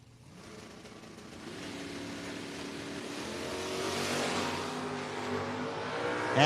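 A Camaro and a Dart make a drag-strip run at a No-Box 660 Shootout, their engines building from a distant growl into a steadily louder roar that swells toward the end, heard on its own.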